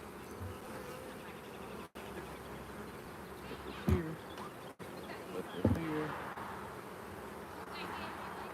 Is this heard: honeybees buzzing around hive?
yes